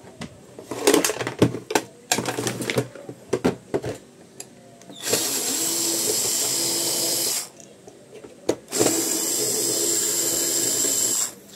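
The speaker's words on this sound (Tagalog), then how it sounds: "Gamit tayong cordless para mabilis." A cordless drill works to remove the bearing from an electric fan, first in short, sharp bursts and clicks, then in two long steady whines of several seconds each, loud and close with no talk.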